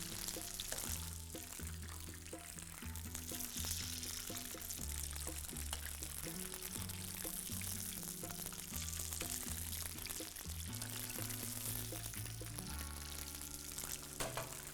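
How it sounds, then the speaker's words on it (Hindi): Hot oil sizzles and crackles steadily as batter-coated mushrooms fry, a continuous bubbling hiss with faint clinks of utensils beneath. "इसको डाला बैटर में और इसको करना है फ्राई।"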